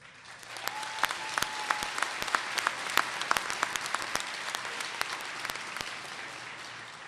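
Dense, sustained applause from a large audience at the Wareham Cooperative Jr/Sr High School 2013 commencement, with many sharp individual claps standing out through the whole stretch and no talking.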